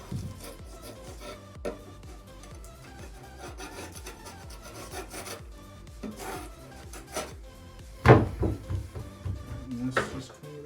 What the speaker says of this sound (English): I'm gonna take this excess